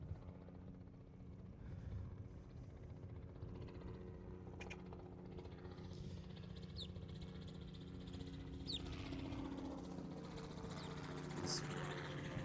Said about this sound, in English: Got a helicopter over us.